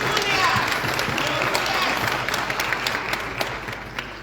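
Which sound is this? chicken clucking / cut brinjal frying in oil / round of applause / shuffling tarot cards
round of applause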